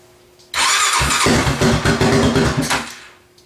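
Honda TRX400ex ATV engine cranking and catching after carburetor adjustment, a sudden loud burst that settles into an uneven pulsing putter, close by, then cutting out after about three seconds.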